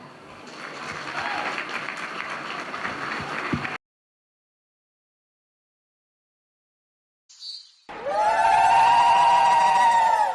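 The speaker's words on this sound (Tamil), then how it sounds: "அவங்களுக்காக ஒரு பெரிய கைத்தட்டல் வாங்க" Audience applause at a Pongal celebration program, a sustained crowd clapping for several seconds that cuts off into silence, followed by a brief noise and then loud music with singing.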